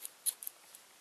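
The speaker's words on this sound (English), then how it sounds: "You want to cut every one of them just so they're 2 pieces each," Scissors snipping through yarn loops for a puffy yarn bunny, a few quiet, crisp close-up cuts in quick succession.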